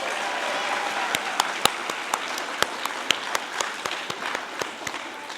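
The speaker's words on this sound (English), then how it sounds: "If you can give her a round of applause." An audience at an education event applauds steadily, soft continuous clapping with a few sharper individual claps standing out, moderately distant.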